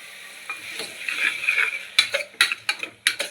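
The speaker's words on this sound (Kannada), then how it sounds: "ಜಸ್ಟ್ ಒಂದು 2 ಮಿನಿಟ್ಸ್ ಅಷ್ಟೇ ಹುರ್ಕೊಳ್ಳಿ" Lentils frying in a pan with oil, a steady bright sizzle broken by a run of sharp spoon scrapes and clacks against the pan toward the end, close and fairly loud.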